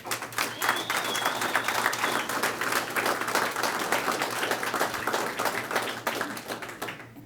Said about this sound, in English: we owe her a big round of applause for that effort